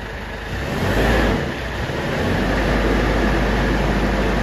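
A turbocharged car engine with about 69,278 on the odometer is revved hard to push smoke out of the exhaust. The loud, steady roar dips briefly, then holds at a high, sustained drone.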